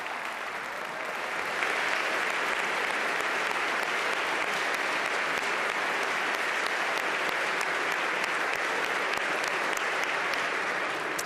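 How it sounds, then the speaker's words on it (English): A large crowd at a governor's budget address applauds firefighters. The loud, dense clapping continues steadily for several seconds with no talking over it. "Come on, we should all clap for our firefighters."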